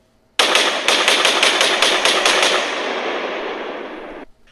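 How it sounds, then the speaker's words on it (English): Rapid automatic rifle fire from several AR-15s aimed at Batman in a bar, loud and close, a dense sustained burst of shots lasting about four seconds before cutting off abruptly. "They begin to shoot at Batman."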